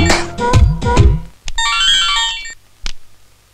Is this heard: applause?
no